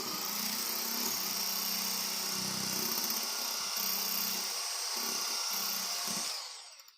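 A blender grinds a custard ice cream mixture, giving a steady loud motor whir with a low churning hum that shifts a little as it runs, then winds down and stops near the end.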